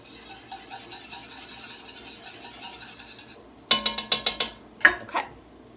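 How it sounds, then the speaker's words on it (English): Whisk scraping and stirring butter and flour roux in a pot, a steady soft rasp followed by several sharp metallic clinks against the pot's sides near the end, close and alone. "Whisk it. I'm going to cook off all that flour."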